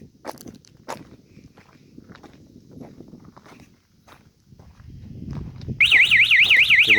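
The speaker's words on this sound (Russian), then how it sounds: "И вот у нас сработка сирены." An electronic siren triggered by a security camera through a configured output port, with no alarm system involved, kicks in loud and warbling near the end after quiet footsteps and room noise.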